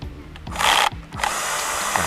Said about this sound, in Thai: ตอนนี้ผมจะถอดแล้วนะครับ จะเป็นหมุนซ้าย